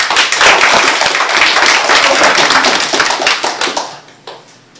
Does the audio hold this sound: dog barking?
no